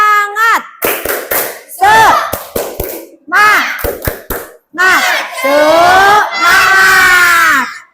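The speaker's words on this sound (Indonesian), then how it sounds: "Tepuk semangat." A school class does the rhythmic Indonesian 'tepuk semangat' spirit clap, sharp clap bursts in quick patterned groups alternating with children's loud chanted voices, ending in a long shouted cheer.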